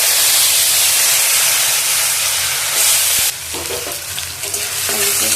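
Potatoes drop into hot oil with cumin seeds, a loud, dense, close hissing sizzle that suddenly softens and breaks into clattering, bubbling spatter once they hit the pan.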